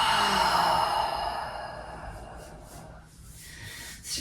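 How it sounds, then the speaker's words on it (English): A long, audible deep breath taken during a quiet yin yoga session, a soft airy exhale that slowly fades away, followed by a faint shorter breath at the end. "Take a deep breath."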